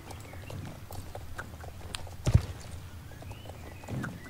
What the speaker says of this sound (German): Reiten wir mal zurück zu Agneta